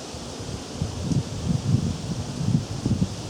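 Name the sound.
wind blowing outdoors into camera microphone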